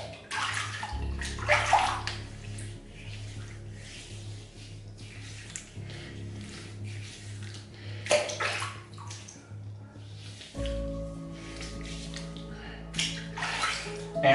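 Tap water runs into a bathroom basin while a face is re-wetted for a wet shave, with bursts of splashing and trickling that start and stop, close and moderately quiet.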